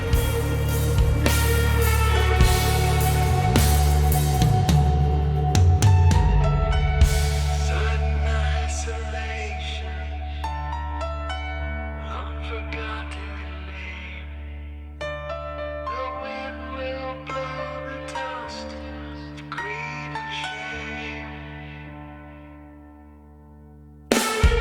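A mixed rock song with a prominent guitar solo over a full band of drums, bass and guitars, playing loudly and continuously before ending abruptly, mixed entirely with IK Multimedia plugins.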